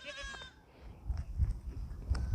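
On a small goat farm, one goat lets out a short wavering bleat, followed by soft rustling and thumping of the animals moving close by.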